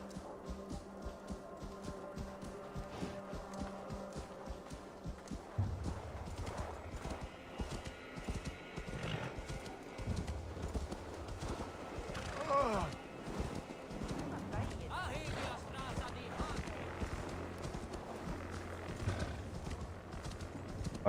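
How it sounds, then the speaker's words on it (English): Horse hooves clip-clop steadily while riding in the Assassin's Creed Valhalla video game, with in-game ambience around and a voice talking over it. "My horse is slowed down in this area"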